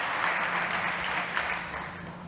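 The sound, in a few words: applause for the judges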